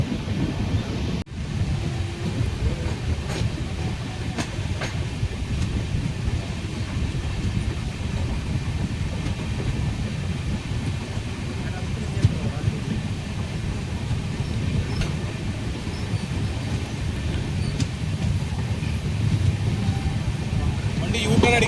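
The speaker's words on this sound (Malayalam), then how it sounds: "ഈ ഭാഗത്ത് ട്രാക്കിൽ വർക്ക് എടുക്കുന്നുണ്ട് അതാണ് ട്രെയിൻ ഇങ്ങനെ പതുക്കെ പോകുന്നത്" A passenger train on the Konkan route near Mookambika Road station moves slowly over a stretch of track under repair, giving a steady, continuous low rumble and rattle of wheels and carriages, with a single sharp clunk early on.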